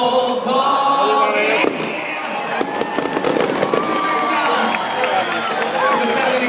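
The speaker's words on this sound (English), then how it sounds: "that's just a taste of the Hershey Fireworks extravaganza to come at the end of the game" Fireworks crackle and pop in rapid bursts at a minor-league ballpark game, loud and close, with a crowd cheering and an announcer talking over the display.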